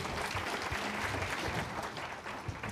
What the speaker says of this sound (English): So give everybody applause.